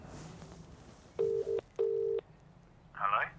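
A telephone line tone after a call is placed: two steady, identical tone bursts in quick succession over quiet room background, followed by a brief voice.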